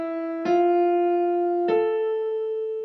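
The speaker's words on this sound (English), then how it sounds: "very helpfully the piano is going to give you the notes that you need" Piano sounds starting notes for each vocal part in choir practice: two separate struck notes, each ringing out and sustaining cleanly, close and clear with nothing else heard.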